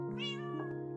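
A Minecraft cat lets out a single clear, drawn-out meow, close and distinct against a faint steady background hum.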